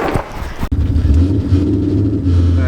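A Ford Mustang's engine rumbles loud and close after a sharp click, settling into a deep, steady idle with a faint rev near the end.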